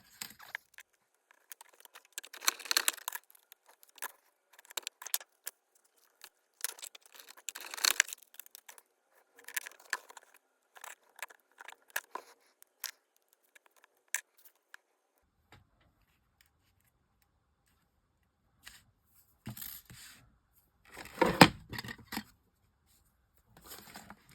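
Scissors cut out a handmade paper card in short bursts of quiet, crisp snipping and rustling up close, with a few pauses and a louder flurry near the end.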